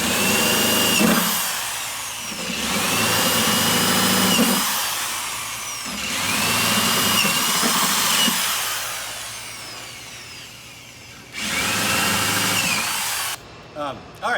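A power drill bores holes through a Jeep JL fender for nut certs, in three long whining runs separated by pauses, close and loud, followed by a shorter final burst.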